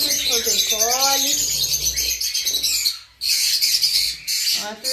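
Lovebird chicks, masked and rosy-faced, call together in a steady chorus of shrill chirps and squawks, close and loud, with a few brief gaps.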